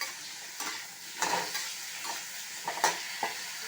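Tomatoes added to sautéing onions in a pan for chayote chutney, soft steady sizzling with scattered scraping stirs and light clinks of a spoon against the pan, close by, no talking.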